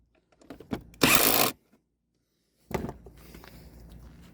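Tightening the recoil cover on a Honda eu2000i inverter generator: a short burst of power-driver whir, a pause, then another brief whir followed by light handling clatter, close and without speech.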